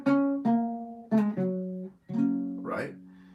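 An electric guitar picks out a melodic line built from major chord shapes, single notes and double-stops plucked one after another with a short slide near the end, played cleanly and alone.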